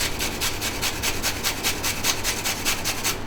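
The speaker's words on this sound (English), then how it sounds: "We're going to take the grater, you're going to take the cabbage, and just run all over" Cabbage rubbed back and forth over a grater gives a steady, close rasping scrape in quick repeated strokes, continuous and without voices.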